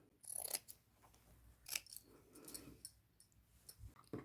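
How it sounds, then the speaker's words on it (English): Scissors snip through a denim shirt to cut out a rectangle, giving a few quiet, scattered crisp cuts and light handling rustles in a hushed room. "on the back of the shirt, I'm going to cut out that rectangle."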